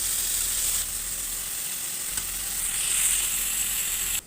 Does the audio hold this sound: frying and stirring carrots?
yes